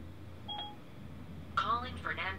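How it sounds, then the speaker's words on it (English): Car radio placing a phone call through Apple CarPlay on a Pioneer NEX head unit: a brief electronic dial tone beep, followed by a synthesized voice announcing the call, all moderately quiet. "Calling Fernando Lopez."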